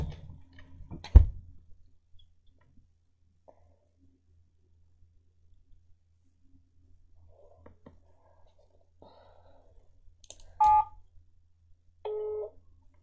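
Telephone dialing during a prank call, heard as a few brief electronic tones and beeps late in the clip, preceded by a loud thump and long quiet stretches with faint whispering.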